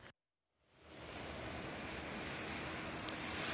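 Heavy rain pours outdoors during a winter storm near burn areas, rising from a brief silence into a dense, steady roar with wind-like rumble and no talk.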